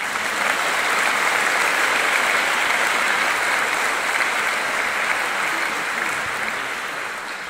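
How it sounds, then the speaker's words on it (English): Audience applause at an academic keynote lecture following an introduction, a dense, steady wash of many hands clapping that fills the room throughout and tapers slightly at the end. "Applause."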